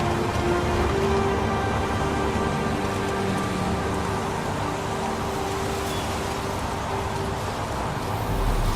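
Steady rain falls in the video game Heavy Rain, a dense, even hiss that holds at the same loudness from start to finish with no voices over it.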